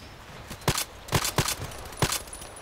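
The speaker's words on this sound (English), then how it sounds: "I don't even know if the shots are hitting." Gunshots in a sniper video game on the Old Sawmill map: five sharp, loud reports at uneven intervals, each a crisp crack with a brief tail over a quiet background.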